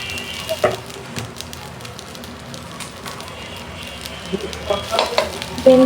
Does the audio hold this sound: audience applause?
no